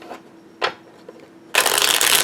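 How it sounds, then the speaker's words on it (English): A deck of Spirit Doodle cards being riffle shuffled: two quick soft card flicks, then a dense, crisp burst of fluttering cards lasting under a second, close and clear with no talking. "It's good stock for riffle shuffling, which is a joy for me."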